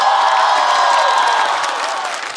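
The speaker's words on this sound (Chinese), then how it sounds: "掌声欢迎小慧、呼兰。" A studio audience at a Chinese stand-up comedy variety show claps and cheers to welcome two comedians, a loud, continuous wash of applause with a few shouts, fading slightly toward the end.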